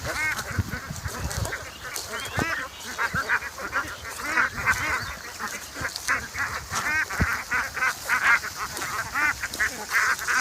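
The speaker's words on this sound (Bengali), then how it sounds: "হাঁসের খামার।" A flock of ducks at a duck farm, herded along by a stick-carrying herder, quacking constantly in dense overlapping calls, nearby and steady throughout, with no talk.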